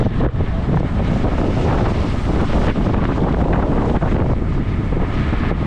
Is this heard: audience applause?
no